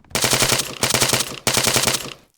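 Three loud, rapid bursts of automatic gunfire fired from a helicopter passenger seat in the video game Arma 3, each burst about half a second long with short gaps between, close and dense with no talking.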